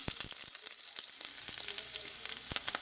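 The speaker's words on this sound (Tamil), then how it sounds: "கடுகு போடுறேன் கடுகு பொடி பொரியுது" Mustard seeds crackle and pop in hot oil, a dense run of sharp, irregular snaps over a steady sizzle, close and fairly loud.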